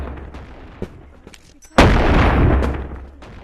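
One loud, close blast from an infinite-ammo shotgun in the video game Animal Company, with a long rumbling tail, coming after quieter clicks and faint game noise.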